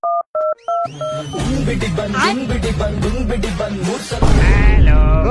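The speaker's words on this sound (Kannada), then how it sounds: "ನಾನೇ ಹಾಕ್ತೀನಿ ಇವತ್ತು ಫೋನ್ ಅವನ್ಗೆ" Three quick pairs of dual-tone dialing beeps, loud and clean, followed by busy overlapping voices and background noise.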